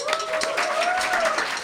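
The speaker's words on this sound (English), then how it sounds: "a huge round of applause to them" Audience applause at a CUNY film festival awards night, a dense steady wash of clapping filling the room, with a sustained tone running underneath throughout.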